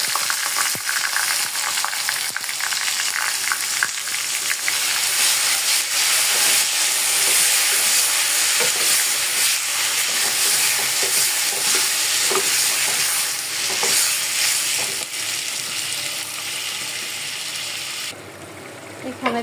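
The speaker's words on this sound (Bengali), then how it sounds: "আমি এখন মুরগিটা দিয়ে দিচ্ছি।" Chicken pieces frying in a pot of hot oil with browned onion and spices, a loud steady sizzle running throughout with stirring scrapes and clatter, the hiss easing slightly near the end.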